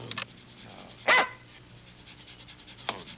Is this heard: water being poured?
no